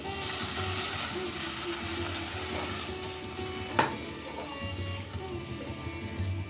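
Masala frying in oil sizzles steadily as hot water is poured in, a continuous close hiss with a brief splash and spatter, while a voice talks over it.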